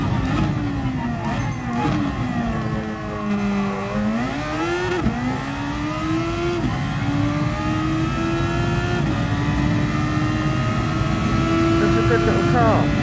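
Game car engine in a PS4 racing title, a steady droning whine that rises and falls through gear shifts and climbs to a sustained high rev, with someone talking over it.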